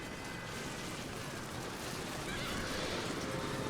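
A horse whinnies amid the din of a medieval battle in Medieval II Total War, set against a dense roar of massed fighting that continues throughout.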